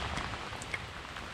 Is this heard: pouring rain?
yes